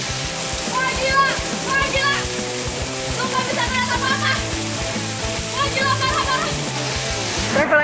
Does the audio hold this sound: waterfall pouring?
yes